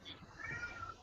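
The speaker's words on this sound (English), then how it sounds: "Sorry, that's my cat." A house cat meows indoors, a short close vocal call with a rising then falling tone, heard alone with no talking.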